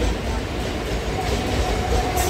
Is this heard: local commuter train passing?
yes